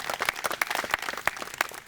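Audience at a technology center groundbreaking and ribbon cutting gives a round of applause, a brief burst of scattered, moderately loud clapping with distinct individual claps.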